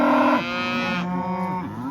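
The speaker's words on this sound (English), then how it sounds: "Cows are not happy." Cattle on a farm, a loud close moo drawn out over two seconds with a falling then rising pitch, sounding unhappy and crowded, with no talk over it.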